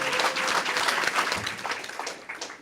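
Audience applause at a public gathering honouring people's courage, a dense patter of many hands clapping that gradually thins and fades over a few seconds.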